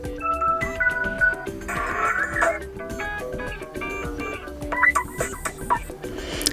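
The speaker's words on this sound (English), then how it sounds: "if you want to listen how the ringtone sounds, simply tap on it" A bright electronic ringtone from a Motorola One Fusion+ phone plays a quick melodic tune of chiming notes, close and clear, with no talking.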